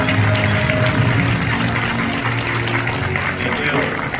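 An audience claps at a peace conference anniversary ceremony as a speaker is welcomed, a steady, fairly loud wash of applause lasting throughout with a low hum underneath.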